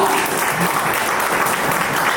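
An audience at a school reunion gathering gives steady, loud, continuous applause that fills the whole moment, with many hands clapping close together.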